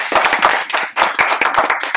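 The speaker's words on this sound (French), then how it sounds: "Puis on peut les applaudir." A small group clapping at the presentation of a new innovative postal agency: brief, close, loud claps in an uneven rhythm that stop and restart after a short break, no talking.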